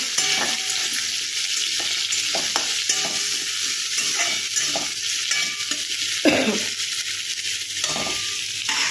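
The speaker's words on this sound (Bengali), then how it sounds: "এটা একটু ভাজা হতে থাকুক।" Onion and potato pieces frying in oil in a pan for a village-style fish dish, a steady close sizzle with stirring scrapes throughout and no talking.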